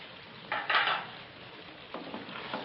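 A spoon stirs black pepper, dried coriander and salt into white chicken korma in a pot, making a couple of short, faint scraping bursts against the metal over a soft sizzle.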